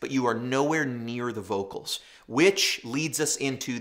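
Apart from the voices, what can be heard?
None of the usual background noises is heard.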